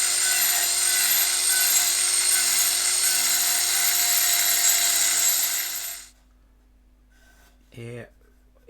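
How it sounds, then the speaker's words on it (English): A Proxxon rotary rasp cutter carving a wavy, scooped pattern into wood gives a steady, loud whining grind with a constant motor tone for about six seconds, then stops abruptly; a brief short noise follows in the quiet. "that's the Proxxon Rasp in action"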